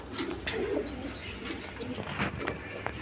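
Pigeons, including Jade Spring breeds, cooing close by in a soft, rolling murmur over a busy background, with a few chirps and small knocks mixed in.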